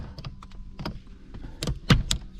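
Aeroflow ratchet shifter moved back and forth, giving a series of close, dry mechanical clicks and clunks in irregular bursts with short pauses between them.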